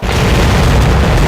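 Ship cannons firing a broadside in the naval video game Commander Conquest of the Americas, a loud continuous booming roar that fills the whole moment with no pause.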